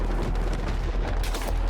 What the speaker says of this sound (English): A lot of gunfire happening.